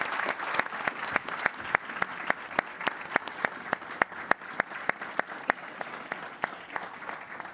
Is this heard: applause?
yes